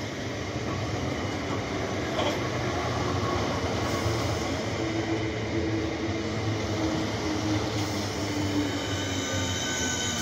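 Train rolling at a London station after dark, a continuous low rumble with wheel noise and faint squeal holding steady throughout at moderate distance.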